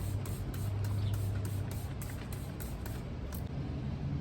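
Rapid repeated pumps of a handheld spray bottle misting a mixture onto a blackberry plant outdoors, about ten quick hissing bursts at a steady rhythm over a low background rumble.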